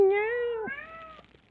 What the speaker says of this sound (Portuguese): Tem que dar atenção pro gato.